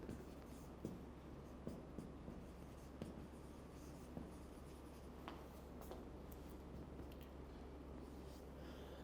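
Steady scratchy strokes of writing on a board during a math lecture, faint and continuous under a constant room hum and background noise, with no talking.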